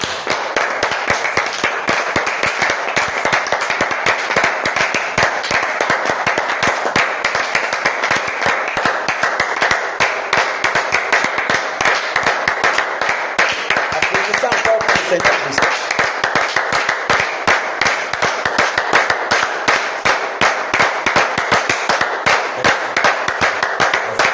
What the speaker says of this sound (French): Applaudissons pour le Seigneur Jésus.